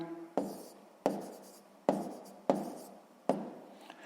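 A pen writes on paper during a sixth-grade maths exercise, making five distinct, sharp strokes spaced about a second apart, each fading quickly, close up and with no talk.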